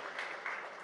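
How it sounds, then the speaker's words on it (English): Audience applause at a News18 Rising India event honouring women in science, a brief, dense and steady wash of clapping with no voices over it. "A big round of applause for that"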